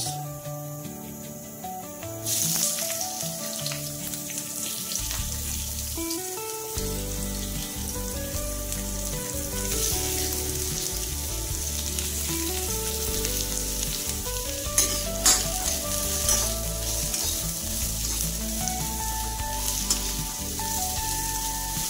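Onion frying in a pan, a continuous close sizzle and crackle that holds steady throughout, with faint stirring and background tones beneath and no one speaking.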